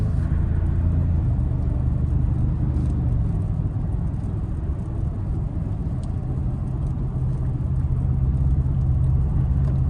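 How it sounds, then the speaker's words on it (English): A 2024 Toyota Tacoma TRD Sport Hybrid pickup accelerates with its turbocharged engine and electric motor, giving a steady, loud, low engine rumble and road roar heard from inside, with no talking. "while that turbo is spooling up, you do get that instant pickup from the electric motor"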